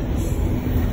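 A long intermodal freight train rolls past close by, a continuous low rumble of wheels and cars with a faint high metallic squeal on top, no voices.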